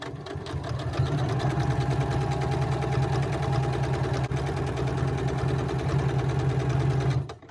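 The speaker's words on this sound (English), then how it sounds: "I'm gonna sew these." A sewing machine stitches along the folded hem of a beach towel, running in one steady, fast, even whir for about seven seconds and stopping near the end, close and alone.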